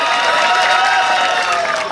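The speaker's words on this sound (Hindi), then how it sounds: "बात समझ में आई तो जोरदार तालियां होनी चाहिए।" Dense, steady applause from an audience at a Hindi comedy poetry gathering (hasya kavi sammelan), loud and continuous throughout without a break.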